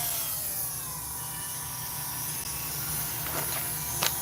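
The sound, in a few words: Dremel rotary tool grinding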